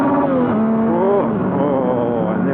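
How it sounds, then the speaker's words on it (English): A 2015 Yamaha MT-09 motorcycle revving hard in first gear, a loud, close engine note rising and falling quickly as it climbs toward the rev limiter. "Bike revs up super quick"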